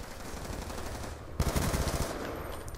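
Gunfire from the video game Call of Duty: Black Ops 2: after a steady din of combat noise, loud, rapid automatic bursts break out about halfway through and keep going to the end.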